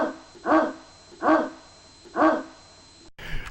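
A cartoon dog barks three times in a slow, even rhythm, each bark loud and close, with a brief sharp cut at the end.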